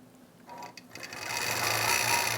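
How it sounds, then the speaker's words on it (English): A quilting machine stitches a continuous-curve pumpkin seed fill, its mechanical whir building and holding steady at close range with no talking. "I'm going to start to quilt out that first row with a basic pumpkin seed"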